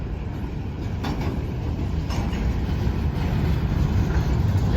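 Norfolk Southern 11Q manifest freight train passing at Hoover Road, a steady low rumble of rolling cars with faint clanks, moderately near and continuous without voices.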